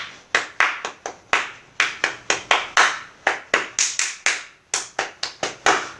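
Hand clapping played as a double-clap rhythm for a madal beat, about twenty sharp, close claps in uneven paired groupings with brief pauses, loud and alone.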